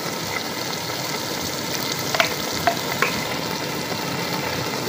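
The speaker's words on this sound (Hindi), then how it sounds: "तमाम चीज़ों को मिक्स करते हैं।" Cabbage is stirred in a pan with ketchup, vinegar and soy sauce, giving a steady frying sizzle with a few light utensil clicks near the middle.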